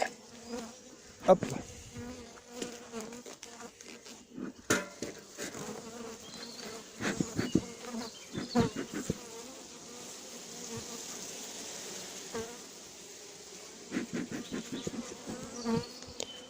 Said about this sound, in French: là, il y a beaucoup trop d'abeilles